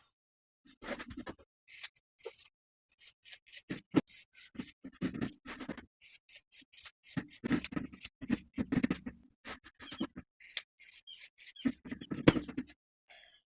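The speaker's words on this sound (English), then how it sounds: "Then you can trim those seam allowances that we just sewed. Once again, I'm using pinking shears." Pinking shears trim sewn fabric seam allowances on a dress bodice, giving a string of quiet, crisp snipping bursts at an irregular pace with brief pauses between cuts.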